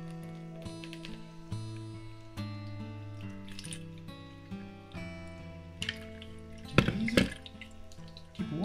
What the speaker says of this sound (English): Now, I'm going to sieve it now